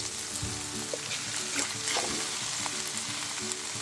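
Tomatoes sizzle as they hit softened onions in a hot pan for a restaurant-style paneer tikka biryani: a steady, close, dense frying hiss with small stirring clatters and occasional bubbling pops, and no talking.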